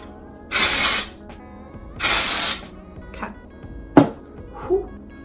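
Dry shampoo sprays onto hair in two loud, steady hissing bursts of about half a second each, followed by softer brushing and handling sounds.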